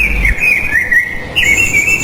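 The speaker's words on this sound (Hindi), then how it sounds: "तभी कालू कौवा वहां पर आ गया।" A cartoon crow calls with a bright, continuous chirping whistle, rising and wavering, with a second higher call joining near the end; close and fairly loud.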